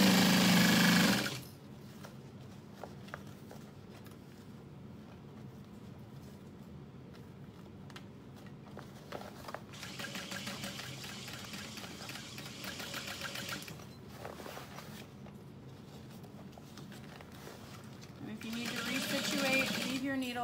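A sewing machine stitches a seam on a Harriet bag lining, running in steady bursts with pauses between, close and moderately loud, while a person talks over and between the runs.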